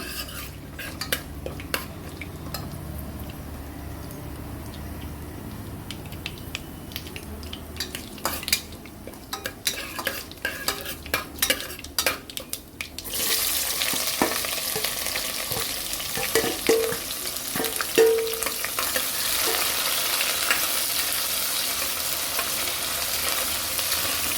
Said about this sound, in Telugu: ఇప్పుడు ముందుగా కట్ చేసి ఉంచుకున్న ఉల్లిపాయ పచ్చిమిరపకాయ వేస్తున్నాను